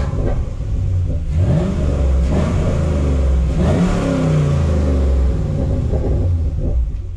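A Chevrolet Camaro SS fitted with a newly installed cold air intake drives along, its engine rumbling steadily up close with a couple of rising rev swells and low road drone throughout.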